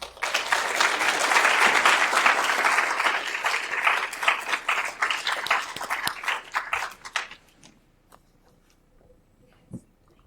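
Loud, sustained applause from a conference audience welcoming three tech talk speakers, dense clapping for about seven seconds before fading into quiet room tone with a stray knock.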